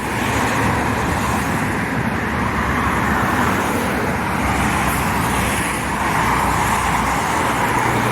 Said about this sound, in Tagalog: Maraming sasakyan dito.